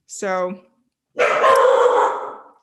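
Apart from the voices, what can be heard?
dog barking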